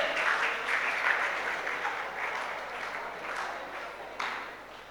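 A school audience applauds to honour students who passed with high grades, a steady wash of many hands clapping that carries on for several seconds at moderate distance.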